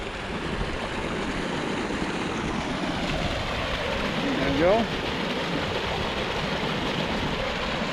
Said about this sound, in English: Pretty little waterfall over here.